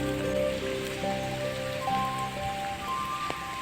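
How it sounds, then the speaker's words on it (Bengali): Heavy rain pours down with strong wind near a flooded dam, a dense, steady roar of drops on surfaces that stays constant, with some faint tonal hum mixed in and no talking. "এখনো সকাল পর্যন্ত এখন বৃষ্টি চলছে এদিকে বৃষ্টির সাথে বাতাসও সাংঘাতিক বইছে"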